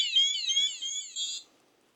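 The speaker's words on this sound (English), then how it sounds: "And it doesn't set off the alarm until it's about" A handheld radiation detector's alarm goes off at close range, giving a loud, high electronic warbling tone that wavers for about a second and a half before cutting out.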